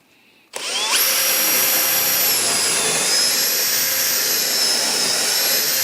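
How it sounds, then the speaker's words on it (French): Power drill boring holes for the guides of a radial saw bench, starting abruptly after a brief quiet moment, then a loud steady high whine that holds, close and without talk. "percer les trous"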